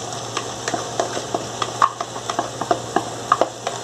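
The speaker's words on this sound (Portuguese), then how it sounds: "E agora eu vou colocar o meu arroz." Rice stirred in a frying pan with a continuous sizzle, while a utensil scrapes and taps at a steady, irregular pace, close by, with a low steady hum underneath.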